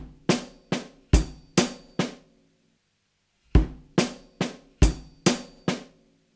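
A drum groove in 7 on a kit, six strokes mixing bass drum, snare and hi-hat with an extra hi-hat in the second group of three, played as two phrases separated by a pause. Close, loud and without talk.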